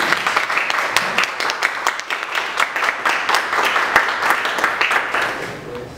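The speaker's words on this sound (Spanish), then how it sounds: "Un aplauso." Steady applause from a conference panel audience, many hands clapping at a fairly even rhythm for several seconds, with no talking over it.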